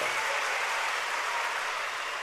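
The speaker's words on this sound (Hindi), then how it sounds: "उन सारे कार्यकर्ताओं के लिए जोरदार तालियां हो जाएं" A large crowd at the Kumbh Mela bursts into dense, loud, continuous applause for the event workers, a sustained wash of clapping with no pauses.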